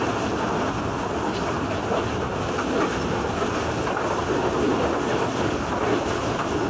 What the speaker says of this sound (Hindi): तो इस वक्त ट्रेन मजीद के रेलवे स्टेशन से थ्रू पास हो रही है।